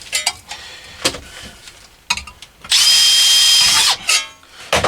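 A power drill whirs loudly for about a second while drilling an antenna part, preceded and followed by brief clatters and tool handling noises.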